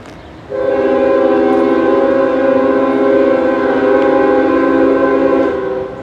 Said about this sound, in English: this horn is fouled. It sounds fouled.